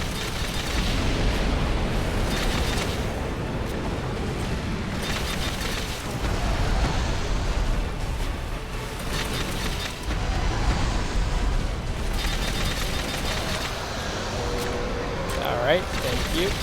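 Spike grenades in Dark Souls, played as Master Chief, go off in a string of rumbling, noisy blasts with bursts of crackling debris, while someone talks over the battle noise throughout.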